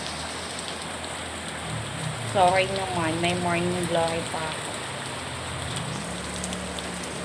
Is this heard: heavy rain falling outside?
yes